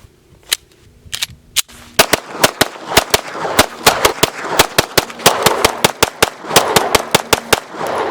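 Close, loud pistol shots from a Heckler & Koch VP9L, about twenty sharp cracks in an uneven string, a few spaced single shots first and then faster, steady fire, no talking.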